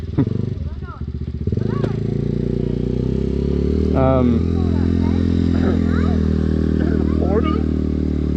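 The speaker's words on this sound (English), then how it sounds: "I was gonna say, it sounds like a quad." A small quad bike engine idles and drones steadily close by, with people talking over it throughout.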